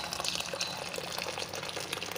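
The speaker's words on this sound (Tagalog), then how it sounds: "Lagyan natin ng mainit na tubig." Steady broadband rush of boiling-hot water being poured, continuous and fairly close, with no talking.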